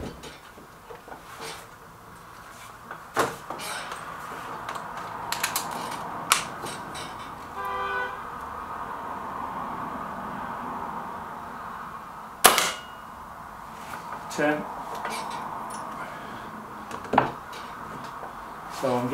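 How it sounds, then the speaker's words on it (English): An MP500 air gun firing pellets: a few sharp, isolated cracks spaced several seconds apart over a quiet, low background. "that first shot there that the MP500 did"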